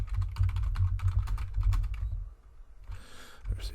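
Quick, irregular clatter of keys on a computer keyboard as a library search is typed in, close and fairly loud, pausing briefly midway before a few more keystrokes.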